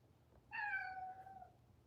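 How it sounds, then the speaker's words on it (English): A single meow from an orange kitten indoors, a short, clear, rising-then-falling cry lasting about a second, close and alone against quiet. "If you guys heard a meow,"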